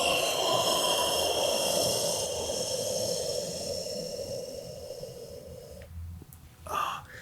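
Long, breathy exhale from a person during self-massage with fingers pressed up under the ribs at the diaphragm, close and steady, fading out before a brief sharp breath near the end.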